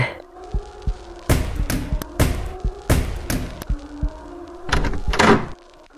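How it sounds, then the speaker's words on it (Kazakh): A door in a horror animation bursts open with a bang amid a run of sharp, loud thumps and impacts, separated by brief quiet gaps, with a low tonal rumble beneath. "Есік тарс еткен дауыспен ашылды,"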